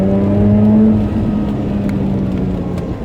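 Engine of a 2009 Mazda RX8 R3 droning loudly at high revs, a steady, close, sustained tone that sags slightly in pitch, with no talking.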